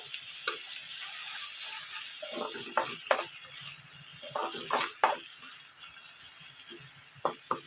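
Tomatoes with a little salt frying and softening in a pan for egg masala curry: a steady sizzle runs throughout, broken by scattered scrapes and clinks of a spoon stirring against the pan.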